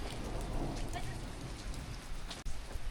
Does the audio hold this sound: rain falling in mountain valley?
yes